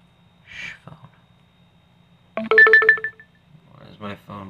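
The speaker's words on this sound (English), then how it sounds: "Why is my phone being loud?" A mobile phone ringtone sounds loudly indoors for about a second, a short burst of bright tones, with a man's speech before and after it.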